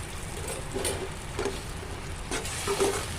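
A turmeric and lemon mixture bubbles and simmers in a pan, soft sizzling with a few louder bursts of bubbling at irregular intervals.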